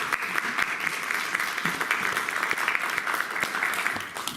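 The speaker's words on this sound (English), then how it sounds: "Let's have a round of applause" Steady applause from a group at a board of education meeting, many hands clapping continuously at moderate volume before tapering slightly at the end.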